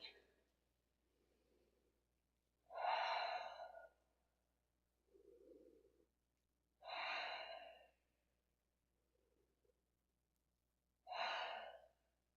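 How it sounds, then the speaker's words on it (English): Three slow, deep breaths taken in child's pose during a yoga session, each a long audible exhale spaced a few seconds apart, close and fairly soft in a quiet room, with fainter inhales between them. "And take 3 big breaths into the back of the body."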